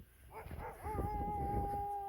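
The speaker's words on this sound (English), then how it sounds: "Just barking dogs." Dogs bark and whine at a distance, a few short yips giving way to a drawn-out, howling tone that holds steady over soft background noise.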